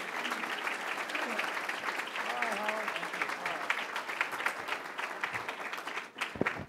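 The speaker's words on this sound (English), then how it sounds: "Let's give her a round of applause." Sustained crowd applause at a business talk as a CEO is introduced, steady and moderately loud, with a few voices and cheers mixed in and a brief spoken word near the end.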